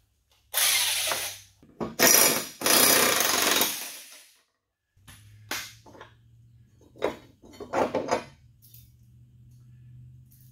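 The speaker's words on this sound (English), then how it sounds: "the easiest way to take the blades off is with an impact wrench" An impact wrench hammers in loud, close bursts while removing the blades from a Cub Cadet RTZ L 54-inch mower, several rattling runs separated by short pauses, with clanking metal handling in between.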